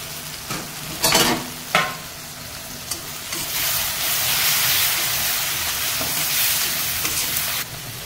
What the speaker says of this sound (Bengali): এই আমার মশলা কষানো হয়ে গেছে